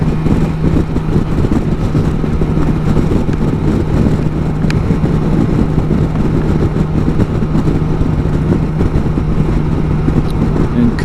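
BMW S1000 XR motorcycle accelerating through city traffic on the way from Flinders Street toward Westgate, a steady, loud engine drone with a low hum and wind rush throughout, close-up and continuous.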